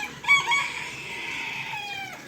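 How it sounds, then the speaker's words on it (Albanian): A rooster on a farm in Germany crows once, close and clear, a single drawn-out call lasting about two seconds over a quiet background. "Gjeli po këndon."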